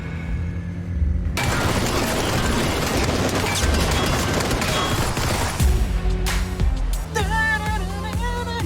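Dense, continuous gunfire and bursts of shots in a video game, pistol fire from inside a car, loud and sustained with crashing impacts, giving way near the end to a sweeping electronic tone.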